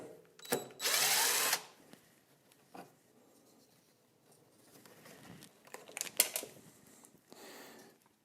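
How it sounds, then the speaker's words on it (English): A power drill backs screws out of the carburetor of an MTD push mower on a workbench, one short close whir burst followed by quieter clicks, taps and handling noises. "Let's get those screws off."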